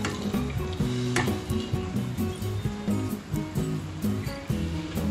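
Masala frying in oil in a pan for Indian egg curry, a soft continuous sizzle with occasional stirring scrapes, sitting under a louder rhythmic musical backing.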